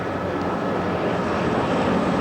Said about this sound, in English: Chinooks and Iroquois, yep, there they come.